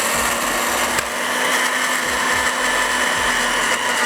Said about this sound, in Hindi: और अब उसको पीस रहे हैं दही के साथ।